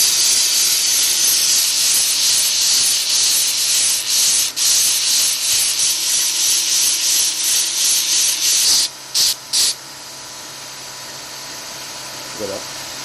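A knife blade is sharpened on an abrasive surface with a steady, loud, close grinding hiss. The hiss runs continuously for several seconds, breaks off in a few short gaps, then carries on more quietly.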